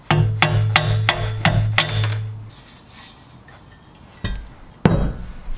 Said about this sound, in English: hopefully a quick hammer should get them out